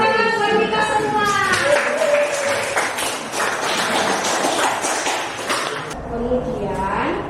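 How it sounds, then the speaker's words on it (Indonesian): A classroom group claps together over several seconds, a busy patter of hands mixed with children's voices and a teacher talking. "Oke, tepuk tangan buat kita semua."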